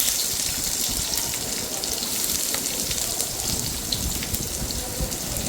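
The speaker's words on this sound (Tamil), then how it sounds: "இப்போ வெங்காயத்தை ஆட் பண்ணுவோம்." Chopped onions fry in hot oil for biryani, a dense, continuous crackling sizzle that stays loud and even throughout.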